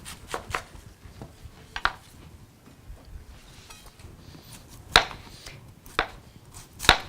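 A knife slicing peeled apple thin on a cutting board for an autumn apple slaw, with sharp irregular chopping knocks against the board, close and clear, no talking.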